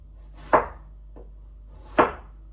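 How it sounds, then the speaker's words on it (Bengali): A knife chops through an eggplant on a board in two sharp, close thuds about a second and a half apart, with a faint lighter tap between them and no voices. "আর বেগুনটা কেটে নিই।"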